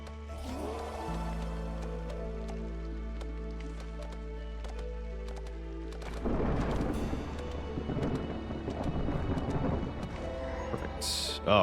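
Thunderstorm in a video game: a steady low rumble of rain and distant thunder for several seconds, then a louder, rolling crackle of thunder swelling near the end, with no talking.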